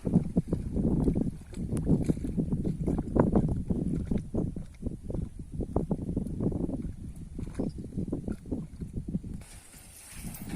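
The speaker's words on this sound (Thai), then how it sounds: "ลมแรงมากครับ" Strong wind along a riverbank roars and buffets close to the microphone in heavy, uneven gusts throughout, with a rough, churning texture.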